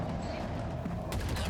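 Enemy gunfire from a Halo Infinite firefight, a dense continuous rattle of shots under busy game noise, with a sharper burst near the end.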